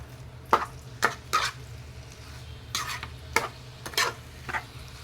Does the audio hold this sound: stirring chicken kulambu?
yes